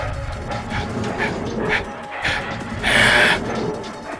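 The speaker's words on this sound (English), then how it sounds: "Like, is that his breathing?" A character in the video game Digital Devil Saga 2 breathes heavily, with short, rasping, panting gasps in a steady rhythm and a louder breathy burst near the end, over a dense game soundscape.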